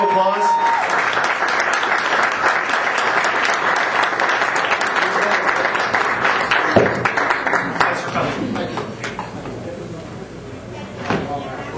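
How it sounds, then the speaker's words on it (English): A meeting audience of the DeLorean Mid-Atlantic Club in 2007 applauds as Fred Dellis of Legend Turbo comes up to speak: dense, sustained clapping from a crowd that thins and fades over its last few seconds. "Give him a round of applause."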